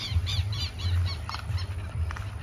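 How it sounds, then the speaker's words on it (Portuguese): Many birds squawk and squeal together beside a stream while hunting small fish, a dense run of repeated harsh calls over steady low background noise, with no talk. "Olha o tanto de pássaros aqui. Tudo caçando um peixinho."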